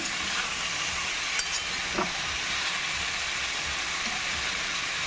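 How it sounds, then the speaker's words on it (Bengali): Potatoes for a plain white potato curry fry in a pan, giving a soft, steady sizzle with occasional scrapes of stirring throughout. "আলুটাকে একটু নেড়ে ছেড়ে নেব তবে খুব বেশি ভাজার দরকার নেই"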